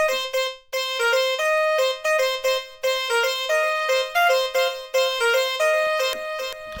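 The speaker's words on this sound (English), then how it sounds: "But if we turn it up slowly, you can hear the delay again." A bright synth plays short repeated notes through FL Studio's Fruity Delay, each followed by echoing repeats that trail off, creating a rhythmic delayed pattern; no voices present.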